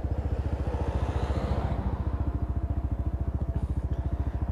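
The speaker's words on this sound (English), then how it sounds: "So as you can tell from that engine, it has got a sweet little purr to it." A Lexmoto ZSX-F 125cc motorcycle idles close by with a quick, even, throbbing pulse, a steady low purr that runs unbroken with no one speaking.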